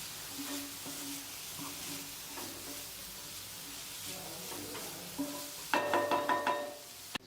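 Filling sautéed with chili powder in a pan for homemade wheat momos, a soft sizzle with light stirring scrapes, then a burst of louder knocks and clatter near the end.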